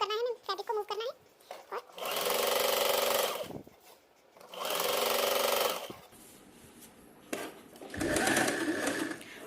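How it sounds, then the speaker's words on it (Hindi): Electric sewing machine running in three long bursts, stitching both side seams of a kurti along chalk lines, with brief quiet pauses and a short spoken moment at the start. "दोनों साइड्स की सिलाई लगा देंगे"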